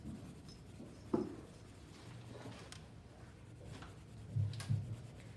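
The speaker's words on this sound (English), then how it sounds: "I'm going to really apply pressure on this pencil" A pencil is pressed hard against paper while shading a dark value, making a soft, continuous scratchy rubbing with a few slightly louder strokes. The sound is faint and close.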